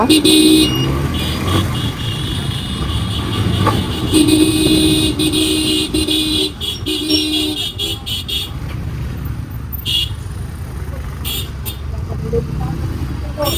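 A vehicle horn honks in short bursts amid steady road traffic and engine noise, with a motorcycle ride on a busy street implied, and some speech mixed in.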